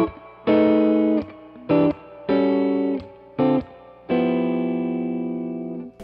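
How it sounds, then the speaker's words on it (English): Electric guitar through an EP Booster pedal set to vintage mode, several strummed jazzy chords with rich overtones, each ringing out briefly before the last one sustains and slowly fades, close and moderately loud. "So when I put the EP Booster on vintage mode,"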